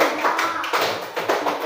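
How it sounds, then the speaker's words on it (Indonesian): A primary-school class claps together for a student group, a short burst of brisk, close hand claps in an indoor classroom. "Ya, tepuk tangan untuk kelompok 2."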